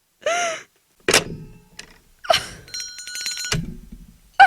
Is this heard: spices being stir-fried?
no